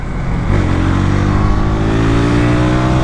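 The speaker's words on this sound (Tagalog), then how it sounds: "Kung sakali mag downshift tayo in high RPM, hindi iingay yung bike" A KTM RC 200 sport motorcycle on a racetrack downshifts at high RPM, its loud, close engine note holding steady rising harmonics for about three seconds with no audible talk.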